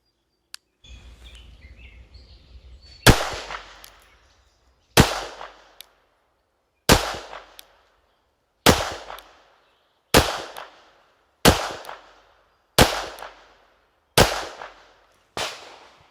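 A Girsan MC14T pistol fires through the rest of a magazine loaded with round-nose Remington bullets, giving nine sharp, loud shots at a steady pace of roughly two seconds apart, each trailing off in a short echo, with faint handling noise before the first.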